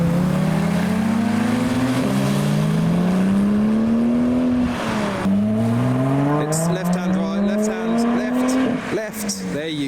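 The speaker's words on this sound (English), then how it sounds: "The Kia is revving, just thought I'd let you know." A Kia leaving a car show in heavy rain revs hard through two long climbing pulls, the engine note rising and then dropping with each shift, close and loud, with rain noise and crowd chatter in the background.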